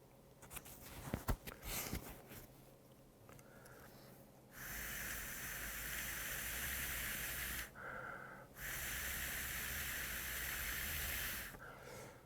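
Breath blown through a straw into a cylindrical Bernoulli-principle science toy with a cotton ball and strings inside makes a close, steady airy hiss. It comes in two long blows split by a short pause, after a few soft breaths and handling noises.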